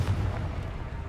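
A Confringo blasting spell explodes in Hogwarts Legacy, giving one short, deep, rumbling boom with a heavy low-end body that fades quickly.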